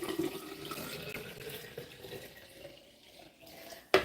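Water runs steadily from a kitchen sink tap during washing up after juicing, a continuous close hiss that ends with a brief clatter.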